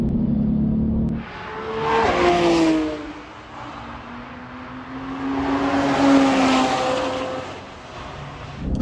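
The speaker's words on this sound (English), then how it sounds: "Foot on the gas as you open up the steering past the pit entrance and it's a long blast up the hill" A Porsche 992 GT3 Touring on a race track accelerates hard up a hill, its engine note rising in pitch through the gears with brief dips at shifts, loud and close, no talking.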